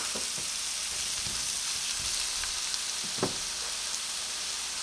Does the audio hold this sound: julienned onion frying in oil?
yes